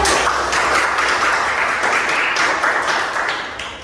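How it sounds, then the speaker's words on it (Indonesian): A classroom of schoolchildren clapping their hands together for an Islamic studies lesson, a busy, uneven patter of claps that holds steady and then tapers off. "coba tepuk tangan"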